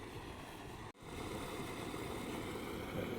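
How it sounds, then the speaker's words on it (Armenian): Water murmurs steadily by a dirty waterside spot with fish, a soft continuous wash of noise that cuts out for an instant and then carries on evenly. "Ջրի մոտ նստելը շատ հաճել է, այս ջրի ձայնը, ջրի խոխոջյունը լսում ենք։"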